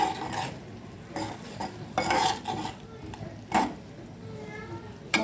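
A spoon scrapes and clinks in a pan as hilsa fish spices are stirred with kasundi mustard sauce, in bursts of metallic taps over a soft sizzle, with a voice talking in between.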